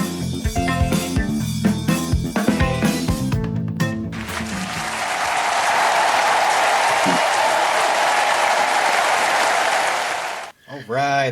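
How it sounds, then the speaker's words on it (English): New York Giants fans applauding, a dense, loud wash of clapping that swells in after a burst of music and holds steady for several seconds before cutting off abruptly. "That's the sound of the New York Giants fans applauding as the Giants have released Daniel Jones out of the contract"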